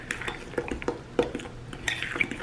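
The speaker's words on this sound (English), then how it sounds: "Get that all mixed up." A utensil works chocolate chip cookie dough around a bowl in a quick series of close scraping and clinking strokes against the bowl's sides.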